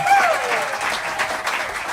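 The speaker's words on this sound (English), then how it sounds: "Everybody give Clea Yeagle a big round of applause on the fiddle" A live audience applauds a fiddle player at a Friday night jamboree at a country store in Floyd, Virginia; dense, steady clapping fills the whole stretch, with a brief tonal note at the start.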